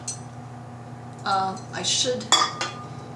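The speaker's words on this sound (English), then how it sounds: "I'm going to go ahead and dish it up" Hot cranberry is dished from a pot into a bowl: a few clinks and scrapes of a utensil against pot and bowl, close and fairly quiet, with faint sounds of someone nearby.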